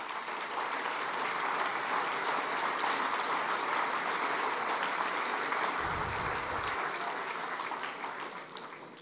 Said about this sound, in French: Et je voudrais que vous vous applaudissiez entre vous.